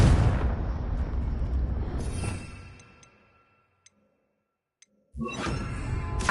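A Confringo fire spell in the Hogwarts Legacy video game goes off as a loud, full-range fiery blast that fades to near silence over a couple of seconds, a few faint ticks follow, then another burst erupts abruptly.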